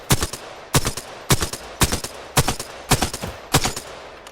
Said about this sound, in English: The Alternator, my favourite gun in the game.